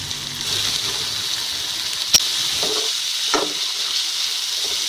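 Chopped onions hit hot ginger-garlic paste in a pan for a soya Manchurian dish, giving a steady, loud sizzling hiss, with a sharp clink near the middle and a softer knock shortly after.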